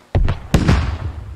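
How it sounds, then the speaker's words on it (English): Rocket explosions in a military video game: two sharp blasts in quick succession, each followed by a rolling, crackling tail, loud and close with no talk over them. "Londarts gets hit by a rocket"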